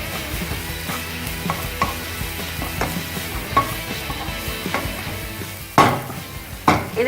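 Spring onions stir-fry in a pan with garlic for a Sundanese home lunch, a low steady sizzle broken by repeated utensil scrapes and clanks, two sharper knocks near the end, and no voices.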